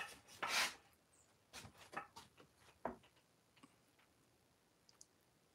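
Chamfering the edge of a wooden axe handle by hand, a few quiet scraping and rasping strokes with clicks in between, close, irregular and faint.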